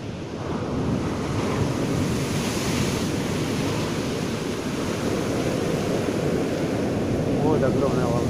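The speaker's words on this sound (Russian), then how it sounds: "Вот идут большие волны, смотрите." Large sea waves crash and roar during a night storm at Batumi, with strong wind buffeting the microphone in a loud, continuous wash of surf.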